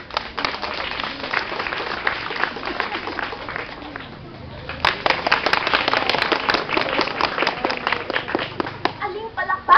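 Applause from a school audience at a Filipino balagtasan debate at Alcoy NHS. Loud, dense clapping fills most of the stretch, dips briefly midway, then surges again, with some voices mixed in.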